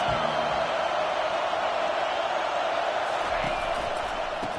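A football stadium crowd roars on third down at an Oregon college game, a dense, steady wall of loud cheering and noise that carries through the whole stretch, with faint shouts above it.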